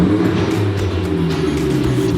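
A new car with a modified exhaust pipe gives off a loud, steady, deep engine rumble close by, droning continuously with no voices.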